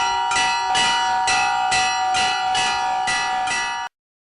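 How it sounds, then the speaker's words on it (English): Orthodox church bells, salvaged from discarded ships, ring in a steady repeated pattern of about seven strikes with long metallic ringing between them, loud and close, then stop abruptly. "Its bells were salvaged from discarded ships."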